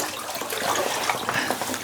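Water streams and trickles off fishing waders as legs are lifted out of a filled bathtub, a close, steady splashing wash with small drips and sloshes, no talking.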